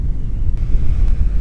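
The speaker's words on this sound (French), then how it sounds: "il y a vraiment trop de vent" Strong wind buffeting the microphone beside a turquoise lake in the Andes, a loud continuous low rumble with a couple of brief gust thumps and no talk.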